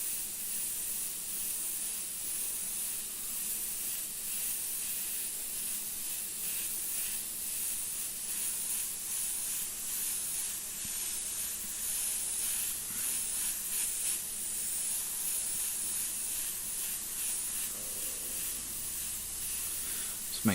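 Steady hissing spray of yellow paint being laid down in a solid coat, continuous and fairly close for the whole stretch with no pauses.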